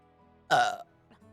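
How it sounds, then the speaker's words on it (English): A single short, loud burp from a person, close to the microphone, standing out over quiet background hum and followed by a faint small after-sound. "that's specifically me burping"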